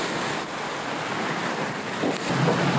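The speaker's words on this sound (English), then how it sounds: "It is pretty choppy going through this gap." Choppy sea waves slap and rush against a sailing boat crossing a shallow gap between islands in the Mediterranean in winter, with steady wind buffeting close by.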